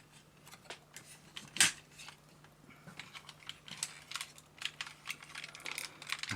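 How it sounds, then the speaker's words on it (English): Plastic Transformers Dai Atlas toy parts being clicked into place, giving a few sharp close clicks and small plastic rattles, with one louder snap early on and light handling noises throughout. "we take these bits and click them in."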